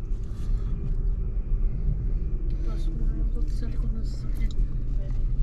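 A truck's engine gives a low, steady rumble throughout, close by, while people talk over it.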